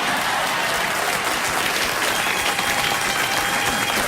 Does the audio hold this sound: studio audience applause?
yes